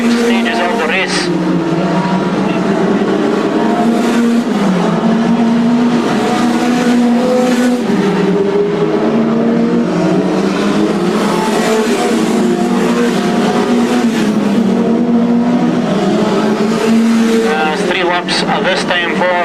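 Stock cars racing at Crimond circuit in 2002, engines roaring continuously at close range with droning, shifting pitch as cars jostle in the closing laps, a commentator talking over the loud, unbroken engine noise.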